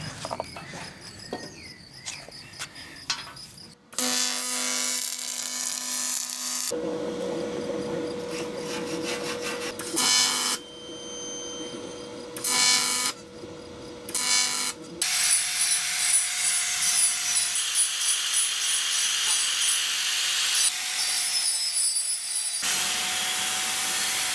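Wood being trimmed on a boat rudder with the side of a blade, giving long, sustained rasping and scraping passes broken by short pauses, close and steady with no talking.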